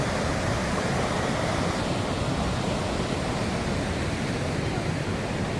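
Continuous loud roar of rushing water at Niagara Falls, like waves breaking steadily nearby, with no pauses or other sounds.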